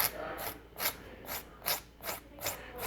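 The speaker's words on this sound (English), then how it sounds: "And then I got a sanding stick. This is a pretty rough one. It's a 100 grit." A rough 100-grit sanding stick rasping across a 1/6 scale garage kit model, about seven short, even strokes in a steady back-and-forth rhythm, close and distinct.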